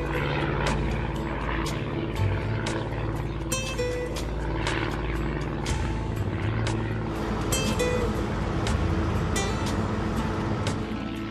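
Small propeller airplane cruising over a coastline of hills and islands in Maine, its steady engine drone and airscrew buzz continuous, loud and close throughout with no pauses.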